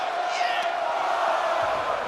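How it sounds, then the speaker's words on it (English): A loud arena crowd in WWE 2K24 at a Bakersfield show cheers and roars in a continuous wash of noise, with faint commentary underneath. "Certainly a red-hot crowd here in Bakersfield tonight"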